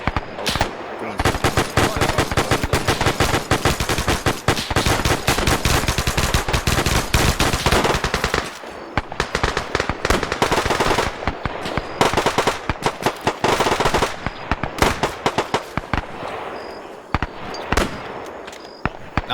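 Heavy gunfire in a WWII video game firefight, dense rapid bursts of machine-gun and rifle fire crackling almost continuously and loud, thinning briefly midway before resuming in sharp volleys.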